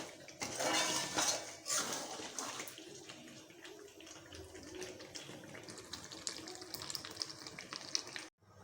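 Metal pots, serving dishes and utensils clatter and scrape as wedding-style cooked chicken is moved from a pot into a dish, with busy, close kitchen clinks throughout and a brief silence near the end.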